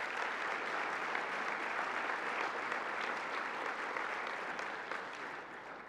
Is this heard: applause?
yes